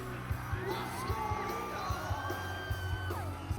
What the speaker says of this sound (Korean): 오랜만의 축제에 들뜬 학생들의 함성은 평화의 전당을 떠나갈 듯 울렸습니다